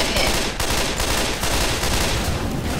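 Sustained automatic gunfire in Left 4 Dead 2 fired at a zombie, a loud, dense stream of shots with no pauses across the whole stretch.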